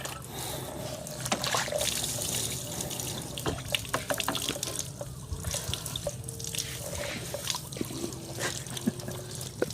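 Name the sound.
shower water running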